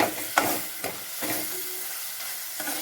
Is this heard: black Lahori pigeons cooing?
no